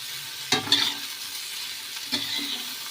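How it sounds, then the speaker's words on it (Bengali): Potatoes and drumstick pods cook in a pan with poppy seed and a pinch of sugar. Two scraping stirs land close by over a soft, continuous sizzle. "চিনি দিয়ে কিন্তু আমি এবার এটাকে কিন্তু নাড়বো।"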